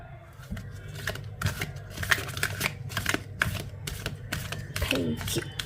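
Tarot cards being shuffled by hand in bursts of quick riffling flicks and soft taps, close and fairly loud, with faint background sound and no clear talking.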